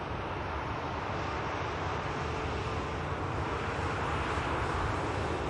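A Jet2 Boeing 737 taxiing at Manchester Airport gives a steady, broad jet-engine roar that stays even throughout, mixed with a little wind noise and no talking.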